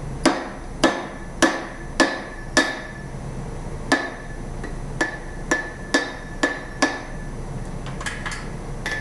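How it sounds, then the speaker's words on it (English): Hot metal cut on a cut-off hardy at an anvil, a series of about fourteen ringing hammer blows at a steady measured pace, close and loud, with no talk. "Now we're going to cut metal with metal."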